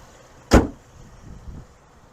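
Hood of a 2023 Chevy Traverse RS being popped open, a single sharp close thud followed by faint low rattles, with no talking.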